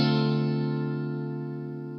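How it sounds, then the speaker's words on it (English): A minor 7th chord strummed once on guitar, ringing out alone with rich sustained harmonics and slowly decaying, with a touch of effects coloring the tone. "if we combine the two minor intervals, we get the minor 7th chord"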